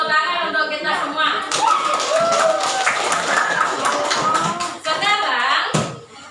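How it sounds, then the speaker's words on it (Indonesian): A group bursts into lively applause that carries on for several seconds, loud and close, then fades out. "Yuk, tepuk tangan untuk kita semua."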